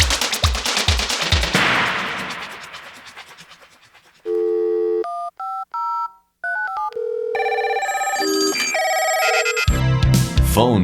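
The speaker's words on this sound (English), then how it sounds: "are real sounds for application as phone sound effects and Foleys" A sound-effects library demo runs through a sequence of telephone sounds: rapid clattering bursts, then steady dial tones, keypad beeps and a shrill ringing bell, each cut sharply against silence.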